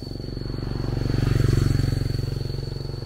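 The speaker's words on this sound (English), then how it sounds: "Motorbike. Motorbike." A motorbike goes by on a busy market street, its engine giving a steady, pulsing drone that swells to a peak mid-clip and then fades slightly. There is a faint high tone in the background and no clear talk.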